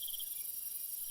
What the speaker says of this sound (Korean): 매미는 여름철에 큰 소리로 우는 곤충입니다.